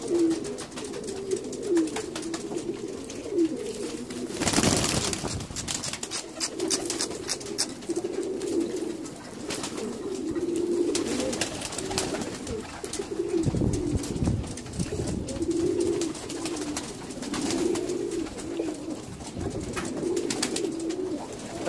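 Pigeons coo steadily in repeated low, throaty phrases throughout, close by, with occasional wing flutters and rustling; no speech.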